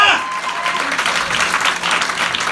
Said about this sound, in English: Give yourself a round of applause, y'all.